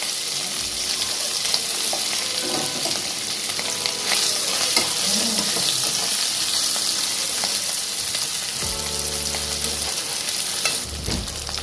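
Paneer posto frying in red mustard oil, with steady broadband sizzling throughout, punctuated by utensil scrapes and stirring clatter, and a brief burst of running water near the end.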